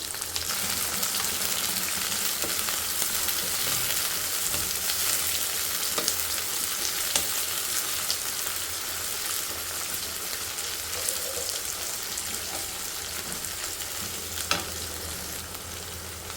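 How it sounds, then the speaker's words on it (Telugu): Ivy gourd pieces and curry leaves fry in hot oil in a pan, a dense continuous sizzle with occasional crackles and stirring scrapes, close and steady. "బాగా ఫ్రై చేసుకోవాలి."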